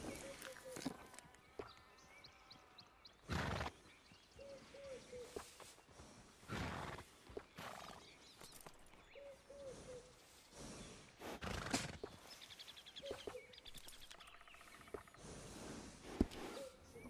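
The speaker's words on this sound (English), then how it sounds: "Horse liable to buck you off with a name like that." Horses in Red Dead Redemption 2 give faint snorts and brief whinnies amid low roaring calls and hoof thuds, quiet and intermittent, with people talking in between.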